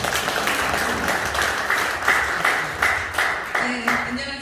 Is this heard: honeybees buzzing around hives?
no